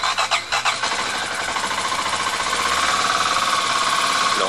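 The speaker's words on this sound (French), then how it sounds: "on est sur un régime de ralenti accéléré puisque la machine est froide" A cold Kawasaki KLX 250 motorcycle engine is held at a fast idle, giving a loud, steady mechanical drone after a few sharp revving pulses at the start, with no one talking.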